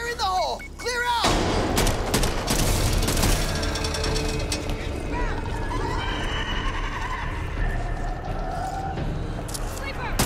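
Explosive charges detonate in the video game Back 4 Blood, a sudden loud blast that rolls into a dense, sustained roar of crashing and rumbling game noise lasting several seconds.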